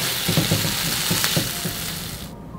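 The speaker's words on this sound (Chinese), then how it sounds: "螺片、芦笋，来点820的青红酒、糖、蚝油，翻炒均匀" Conch slices are stir-fried with asparagus, wine, sugar and oyster sauce in a hot wok, giving a loud, close sizzle. Rhythmic tossing and scraping knocks run through it, and the sound cuts off abruptly at the end.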